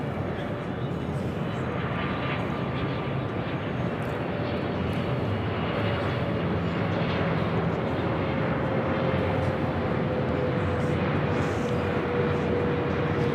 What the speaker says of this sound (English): This is EVA Air Flight 16 coming in from Taipei on the 777-300ER.